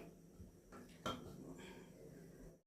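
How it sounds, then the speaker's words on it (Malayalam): A metal lid set down onto a cooking pot of chicken parts curry, giving one sharp clink followed by a faint scrape and rattle, close by in an otherwise quiet kitchen. "മൂടി വെക്കാൻ പോവാണ്."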